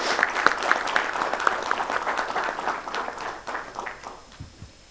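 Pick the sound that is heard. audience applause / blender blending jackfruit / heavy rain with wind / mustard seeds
audience applause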